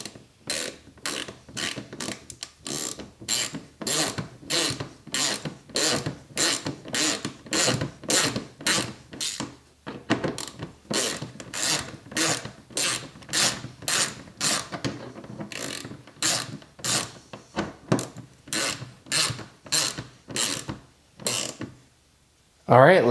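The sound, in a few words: tightening golf cart input shaft bolts with a wrench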